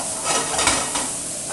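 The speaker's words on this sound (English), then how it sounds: "Saute this up nice." Food sautés in a hot pan, stirred with a wooden spoon, giving a steady close sizzle and hiss with soft scraping over about a second and a half.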